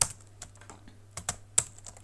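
Keys clatter on a computer keyboard during typing of Django code, a close, quiet run of uneven taps and a few sharper strokes, with no talking.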